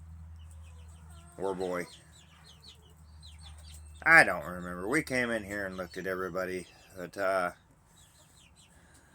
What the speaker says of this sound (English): I know we have some roosters in here.